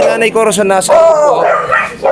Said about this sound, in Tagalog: may bantay po siyang aso